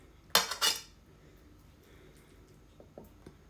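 A utensil scrapes and clanks against a pan as shrimp is stirred into pad thai with softened noodles and egg: two loud metallic knocks early, then quieter scattered taps.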